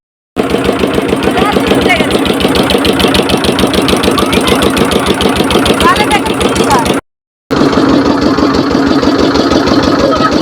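A loud boat engine chugs close by with a fast, steady pulse, cutting out briefly near the end before running on.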